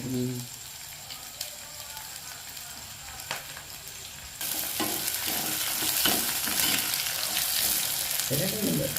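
Steady sizzling of food frying in oil in a pot on a gas stove, quieter at first then louder and denser partway through, with faint stirring clatter.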